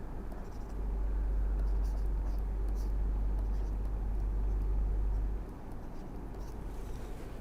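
Marker or chalk writing on a board during a lecture, faint scratchy strokes in short bursts over a low steady hum, with no speech.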